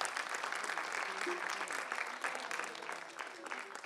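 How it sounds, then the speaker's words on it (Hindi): An audience at a singing competition finale claps loudly and continuously, a dense applause that holds steady throughout with faint tonal sounds underneath. "जोरदार तालियां"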